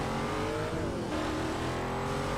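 Ford GT engine in a racing video game, revving hard with a loud, steady roar that climbs and dips in pitch as the car accelerates, close and alone without talk.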